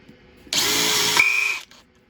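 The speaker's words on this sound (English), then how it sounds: "We're going to swap over drills." A handheld power drill whirs loudly up close for about a second, changes pitch near the end as it works, then stops, followed by a short faint blip.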